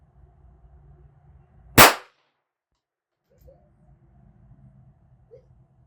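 A 1959 Beretta 950B .22 Short pistol fires one Remington round, a single sharp, loud crack. Quiet low background hum comes before and after the shot.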